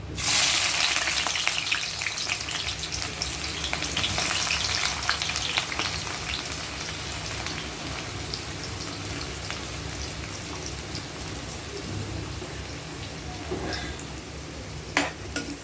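Onions frying in oil in a kadai, a dense, steady sizzle close by, loudest at the start just after they drop in and then settling to an even crackle, with a couple of sharp clinks near the end.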